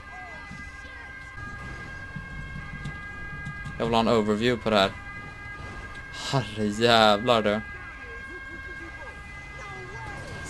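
Ambulance and fire engine sirens wail steadily in GTA 5 at a highway plane-crash scene, their sustained tones running underneath throughout while someone talks loudly over them twice.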